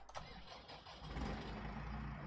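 A tractor engine in Farming Simulator 22 cranks and catches, then settles into a steady, loud mid-pitched idle with a deep rumble, heard alone with no talk.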